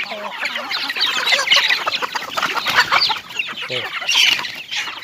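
Many backyard chickens of various sizes cluck and chatter continuously up close, a busy overlapping flock with sharp squawks throughout.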